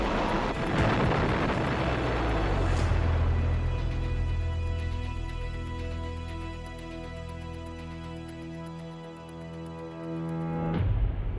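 Three-stage rocket failing at launch after a fuel leak in its first section, captured on archival film: a sustained heavy roar and rumble swells and slowly fades, then surges again at the end, with no speech.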